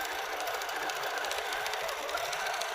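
A QCT6 Plus quilting machine stitches steadily, a continuous fast mechanical whir with rapid needle ticks, close and even, with no talk.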